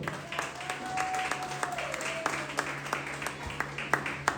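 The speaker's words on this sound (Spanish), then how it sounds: "Denle ese aplauso." Church congregation applauding at a service with a child preacher, steady clapping at a moderate distance with sharper individual claps standing out and faint voices underneath.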